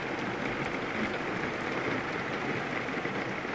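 Heavy rain pours steadily outside a bedroom window over a vegetable garden planted with eggplants, a dense, continuous hiss with no voices.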